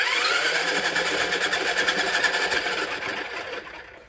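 A small kids' pottery wheel spins with a steady, whirring motor buzz at close range, holding even for a few seconds before slowly winding down and fading at the end.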